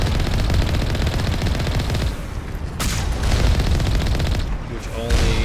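Turrets in Mass Effect Legendary Edition fire loud, dense bursts of rapid automatic gunfire, with a brief lull near the middle before the shooting resumes, close and continuous throughout.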